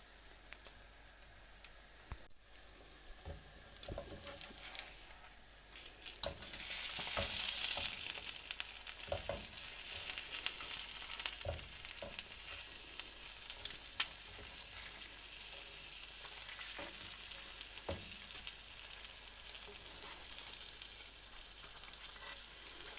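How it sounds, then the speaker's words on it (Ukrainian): Egg-dipped toast fries in a pan with a soft, steady sizzle that swells after a few seconds, broken by occasional light ticks and clinks, all quiet and close. "зачекаємо, щоб ще трішки підсмажилось"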